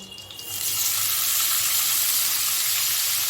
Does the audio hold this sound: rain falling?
no